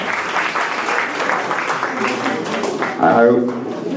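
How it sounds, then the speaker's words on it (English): Guests clap at a 60th birthday party, a dense, continuous patter of hands from a sizeable gathering, close and lively, with voices talking over it and a short shout near the end. "Give clap, give clap."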